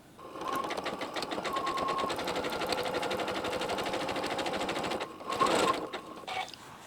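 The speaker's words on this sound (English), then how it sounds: "start stitching over the join" A sewing machine stitching rapidly over the join of quilt-as-you-go blocks, a steady fast mechanical chatter for about five seconds, then stopping with a short clunk and some handling.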